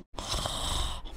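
Carlin, a cartoon character from Kikoriki, lets out one long, loud snore in a bedroom at night, a raspy drawn-out breath that starts after a brief silence and holds steady before fading.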